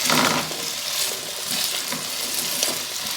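Diced potatoes frying in a pan over medium-high heat for a crustless quiche, a steady close sizzle with light stirring scrapes and no talk.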